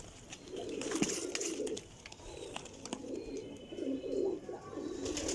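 Racing pigeons coo in repeated low, throaty phrases, close by and fairly steady, with a few faint chirps mixed in, at a loft in Jhelum.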